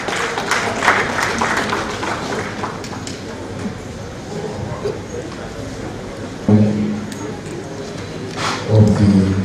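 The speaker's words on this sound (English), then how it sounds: "I want all a round of applause for the chairman of the Island Club" Applause from a gathered audience for the Island Club chairman, loud, dense clapping throughout, with a murmuring crowd and voices talking underneath that grow louder toward the end.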